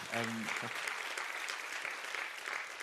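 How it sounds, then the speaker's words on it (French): Audience members at a French web-development conference talk applaud a speaker with continuous, fairly even clapping; a brief voice is heard near the start over the applause. "Je pense qu'on peut tous les applaudir parce que c'était vraiment incroyable."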